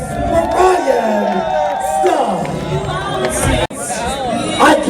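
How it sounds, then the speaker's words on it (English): A live variety show crowd cheers, whoops and shouts loudly with overlapping voices and chatter, a noisy, excited audience reaction close by. "Big round of applause for Ryan"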